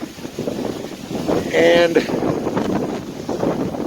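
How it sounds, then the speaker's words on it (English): Strong outdoor wind buffets the microphone as a steady rumbling roar throughout, with someone talking over it during a metal detecting outing. "it is way too windy out here for me"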